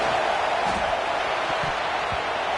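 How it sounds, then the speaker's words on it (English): Stadium crowd noise in an NCAA football video game, a dense, steady roar that holds loud and even throughout, with faint thuds underneath. "Listen to the crowd energy here in the early going."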